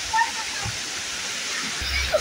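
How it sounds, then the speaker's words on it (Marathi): Waterfall at Matheran roars as a steady broadband rush of falling water, with brief splashes and people talking nearby over it. "आता आम्ही धबधब्याला आलो इथं"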